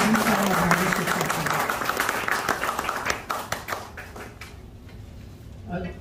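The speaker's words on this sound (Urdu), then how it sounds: "ان کے لیے تالیاں ہو رہی ہیں" Audience clapping at an Urdu book launch and award ceremony in a London restaurant hall, a burst of applause from a crowd that thins into scattered claps, with a voice speaking over it.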